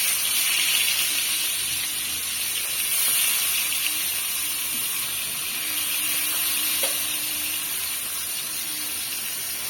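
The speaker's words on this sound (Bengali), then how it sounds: "তেল গরম হয়ে গেছে, এবার মাছটা দিয়ে দিই।" Fish sizzling in hot oil in a village kitchen, a steady loud hiss and crackle that carries on evenly throughout with no talking.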